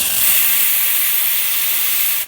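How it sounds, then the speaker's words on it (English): Steam wand of a commercial La Marzocco Linea espresso machine blasting a powerful, steady hiss of high-pressure steam, loud and close, continuous throughout without a break until it cuts off right at the end. "Let's do some steam."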